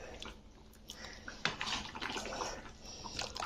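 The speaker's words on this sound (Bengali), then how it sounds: "তো চলো এবারে আমি ঢেলে নিচ্ছি" Neem jhol, a bitter curry of neem leaves, is poured from a pot in a kitchen, giving a close, soft liquid splash that swells midway and runs on steadily with a faint watery trickle, with no talk.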